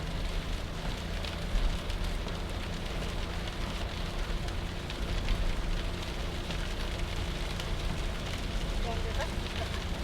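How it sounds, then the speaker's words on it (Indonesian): Heavy rain falls on the Pantura road between Indramayu and Cirebon. A dense, steady roar of drops hitting the surface continues unbroken for the whole stretch, with low rumbling road noise underneath. "Oh, masih hujan sampai sini, dan hujannya juga masih lumayan deras."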